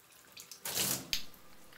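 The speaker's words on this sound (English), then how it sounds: "First, I thoroughly wet my hair." Water from a tap runs while hair is being thoroughly wetted on a wash day for relaxed hair, heard as short, close splashing bursts that are quiet overall.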